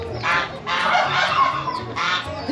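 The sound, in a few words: birds calling, goose-like honking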